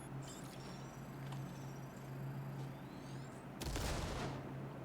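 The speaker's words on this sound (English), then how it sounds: "So now we're gonna detonate his grenade." A grenade detonates in the video game Cyberpunk 2077 with a single sudden broadband blast late on, rising out of a quiet bed of distant gunfire and steady low hum.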